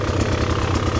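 An enduro dirt bike's engine runs steadily, close and loud, with a low, even throbbing pulse on slippery off-camber ground, alone without talk.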